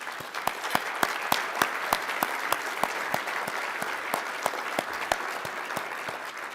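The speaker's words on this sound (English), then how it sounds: "Let's give a round of applause." An audience at a city presentation lunch gives a round of applause, many hands clapping steadily with distinct sharp claps standing out, moderately loud and continuous.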